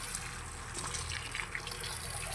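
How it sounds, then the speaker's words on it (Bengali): Water poured onto potted plants in large drums in a rooftop garden, a steady splashing trickle throughout, close and fairly loud, with no talk. "এই গাছগুলোর মধ্যে জল দেওয়া হয়ে গেলেই কমপ্লিট গাছে জল দেওয়া।"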